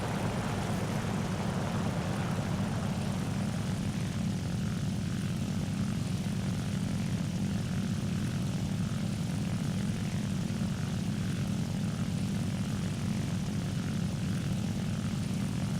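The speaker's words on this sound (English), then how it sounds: "Now here comes a Helldiver." A Helldiver propeller aircraft engine drones steadily and loudly for the whole stretch, a thick, even roar with no pauses.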